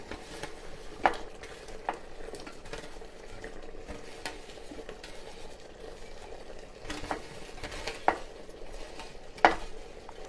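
Pork frying in garlic butter in a pan while being stirred, a faint steady sizzle with a few sharp scrapes and clinks of the utensil against the pan at irregular moments.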